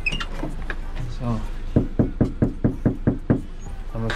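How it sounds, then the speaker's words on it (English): Knuckles rap on an apartment door in a quick run of about seven evenly spaced knocks, close and firm, preceded by a person talking briefly. "So let me try to knock on this door."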